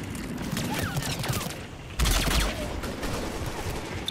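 Machine gun fire crackles in the Mass Effect 3 video game, rapid continuous bursts with a heavier boom midway, mixed with background battle noise and faint voices.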